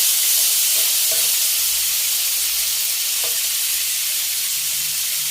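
Pork belly frying in a pan with a little sweet dark soy sauce for stir-fried round gourd, a loud continuous sizzle with a few faint stirring knocks, close and with no voices.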